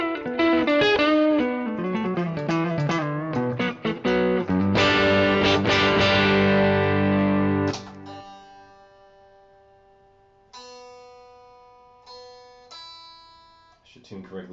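An electric guitar plays through a Palmer PGA-04 loadbox and cab simulator with reverb and delay. Loud distorted chords come first, then sustained single notes ring out and fade, with some talk mixed in.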